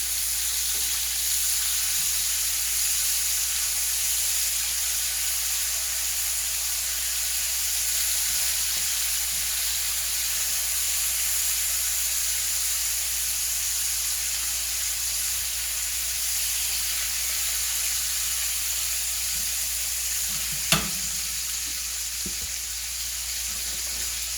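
Stuffed chicken fries in a pan for a cream-sauce dish, a steady, even sizzle and hiss of rendering fat that runs unbroken, with one brief sharp clink near the end.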